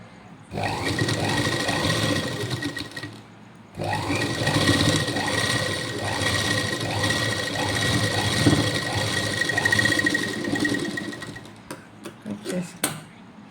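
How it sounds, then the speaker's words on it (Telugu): A sewing machine stitches a double-folded hook strip on a blouse, running in a fast rhythmic whir, pausing briefly, then stitching again for a longer run before ending in a few scattered clicks. "ఇప్పుడు పైనుంచి మళ్ళీ ఒక కుట్టు వేయండి."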